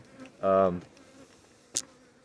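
A single honeybee buzzes loudly past, close by, for about half a second, followed by a brief faint click, then quiet.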